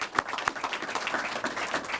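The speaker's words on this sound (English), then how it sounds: "Round of applause to all the judges." An audience applauds for prize judges at a San Diego awards event, a short burst of scattered hand clapping with distinct individual claps, fairly close and unaccompanied by talk.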